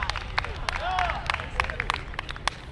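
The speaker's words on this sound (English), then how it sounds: "Big round of applause for Ken." Scattered clapping from a crowd, steady and moderately loud, with background chatter mixed in.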